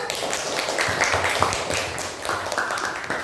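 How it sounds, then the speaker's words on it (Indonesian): A classroom group claps in applause after a presentation, with a brief burst of quick, fairly close hand claps from several people that tapers off within a few seconds. "tepuk tangannya"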